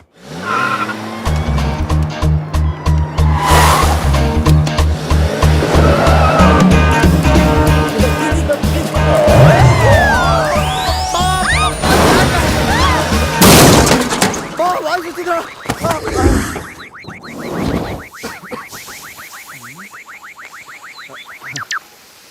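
A car crash in a comedy film scene, leaving the bumper loose and the bonnet bent: a loud engine drone and tire screeching build to a sharp impact, followed by rattling and clattering debris.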